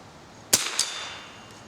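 A single rifle shot from a Remington Model 12 rings out, followed a moment later by a sharp metallic hit on a can downrange, two quick cracks against quiet outdoor air.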